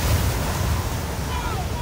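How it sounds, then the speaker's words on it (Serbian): Waves and gusting wind on a lake, churning around a boat far from shore and pushed back by a headwind; a steady, close, unbroken rush of surf and wind noise. "A čamac sa učenicima je već bio na velikoj udaljenosti od obale, šiban talasima usled protivnog vetra."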